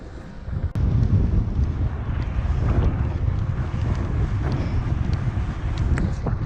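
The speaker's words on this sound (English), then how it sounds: "Full wind in my face." Wind roars into the microphone while riding a Cannondale Tesoro e-bike along a cycle path at speed, a loud continuous buffeting rumble that starts suddenly after a quieter moment.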